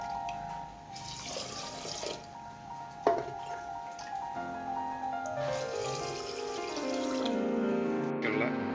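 Water stored in a clay pot is poured into a pressure cooker holding rice, lentils and fenugreek, a close splashing pour whose pitch rises as the vessel fills, with a clunk partway through.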